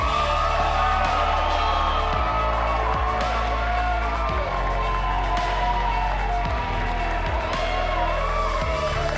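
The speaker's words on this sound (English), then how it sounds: "a big round of applause, the bride and groom, Mr. and Mrs. Minot." Wedding guests at a ranch reception in Paradise Valley, Montana cheer, whoop and yell for the bride and groom, a loud, dense crowd roar with shouts over music.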